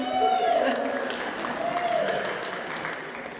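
Pageant audience clapping at the Miss Indian UNM Pageant, a moderate, dense patter of hands that swells early and then holds steady, with voices and crowd noise mixed in.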